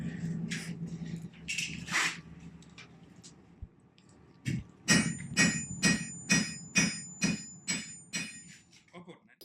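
Hammer blows on the edge of a Viking-age iron frying pan: a few scattered knocks, then a run of about eight evenly spaced, ringing metallic strikes close by.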